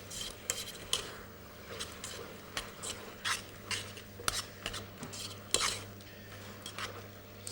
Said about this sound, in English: That's better, I can hear that sizzle more now.